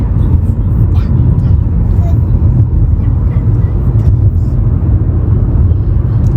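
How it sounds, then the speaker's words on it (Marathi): Slow evening traffic in downtown Minnesota heard from inside a car, a steady low engine and road rumble with faint passing vehicles, while people talk quietly in the cabin. "हे डाऊनटाऊन असल्यामुळं इथं ट्रॅफिक आहे एवढं स्लो चाललंय"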